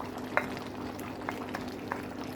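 Chicken curry with coconut milk boiling under a lid in a covered pot, a continuous low bubbling simmer broken by scattered sharper pops and blips, with no talk.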